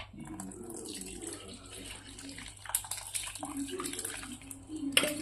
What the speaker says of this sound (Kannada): ಈಗ ಅದು ನೀರೆಲ್ಲ ಹಾಕ್ತೇನೆ ಇದ್ರೊಳಗೆ.